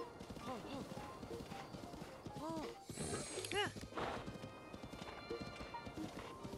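Horse hooves clip-clop in steady rhythm in Zelda: Breath of the Wild, with a few whinnies and neighs rising over the trotting and game ambience, plus a brief rattling crash partway through.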